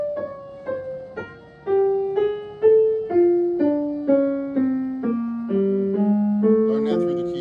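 Piano keys played at a jazz masterclass in a slow descending line of single struck notes, each ringing and decaying before the next, close and clear, with a few quiet background sounds near the end.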